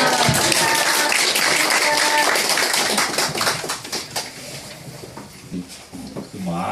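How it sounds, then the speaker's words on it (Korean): Applause from a church congregation at a Korean overseas mission committee's 2013 opening worship service, loud dense clapping at first and then thinning into scattered claps and fading. "박수 부탁드리죠"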